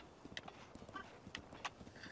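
Horse hooves clip-clop in Zelda: Breath of the Wild, a few light, irregular hoofbeats from a nearby horse over soft ambient game sound, with no talking.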